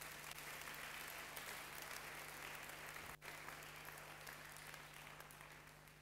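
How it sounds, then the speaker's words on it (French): A church congregation applauds at a Pentecostal-style French-language service, a steady dense wash of clapping that holds for several seconds with a brief dip midway, under a constant electrical hum. "Acclamons pour la parole de Dieu."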